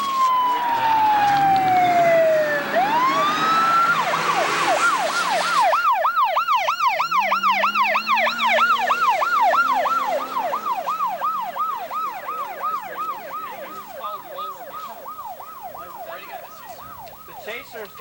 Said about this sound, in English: The chaser's got the siren.